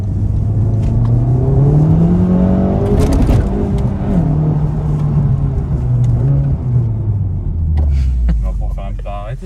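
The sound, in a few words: Honda Civic Type R with Remus exhaust accelerating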